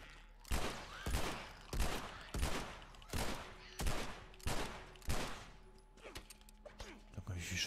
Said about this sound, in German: Warum schießt er denn?